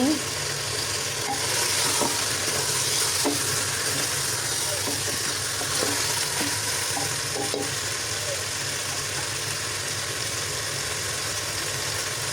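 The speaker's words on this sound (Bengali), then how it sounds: "মশলা আদা রসুন এগুলোর সঙ্গে খুব সুন্দর করে ভেজে নিচ্ছি কিছুক্ষণ ভেজে নিচ্ছি" Spices, ginger and garlic fry in oil flavoured by fried onions, making a loud, steady sizzle with faint stirring scrapes. The sound is close and continuous over a low background hum.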